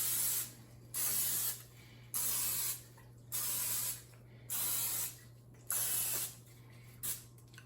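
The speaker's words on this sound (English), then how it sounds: "I'm going to spray them with some of this vegetable oil spray" Vegetable oil cooking spray hisses from an aerosol can in about seven short bursts, each lasting under a second, separated by brief pauses, close and clear, coating crumpet rings.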